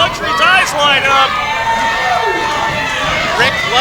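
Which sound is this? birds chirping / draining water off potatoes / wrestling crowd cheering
wrestling crowd cheering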